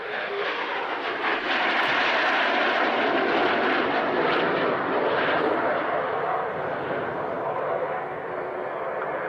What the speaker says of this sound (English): a twin-engined aeroplane, 2 Rolls-Royce Derwent engines, looking quite bulbous, centrifugal turbojets they were called